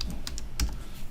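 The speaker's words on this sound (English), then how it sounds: "So then I can type like this" Keystrokes on a computer keyboard at a desk with a Raspberry Pi setup, a quick irregular burst of several clicky taps close to the mic, with a louder cluster midway and quiet background hum.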